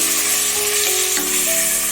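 Peeled, sliced tomatoes sizzling in a pan with onions while being stirred into the mix, a steady, loud frying hiss with a few faint scrapes.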